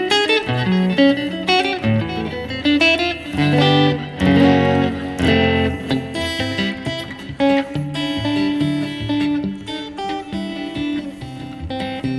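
Electric guitar played through a Fender Tone Master Pro's Super Reverb amp model, a warm, reverb-heavy tone, chords and melodic lines ringing out with a lush tail, steady and fairly loud.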